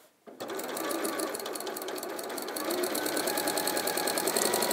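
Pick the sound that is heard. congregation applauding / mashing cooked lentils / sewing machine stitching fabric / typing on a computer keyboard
sewing machine stitching fabric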